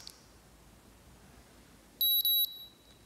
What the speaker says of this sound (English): you want to turn on your device by pressing the button and listening for two beeps